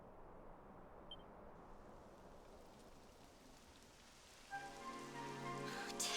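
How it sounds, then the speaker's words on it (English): Rain beginning to fall in Dragon Quest XI, a steady soft hiss of raindrops on surfaces that stays fairly quiet and alone before musical tones swell in near the end. "It would have to go and start raining, wouldn't it?"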